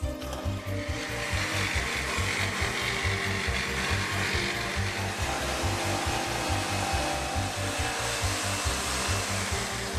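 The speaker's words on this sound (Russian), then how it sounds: "а уже с его помощью направляем движение пилы" A saw cuts a circle, steered by a KWB Line Master precision ruler set up as a compass jig; a loud, steady mechanical whir runs throughout with a fast, rhythmic low chatter and no speech.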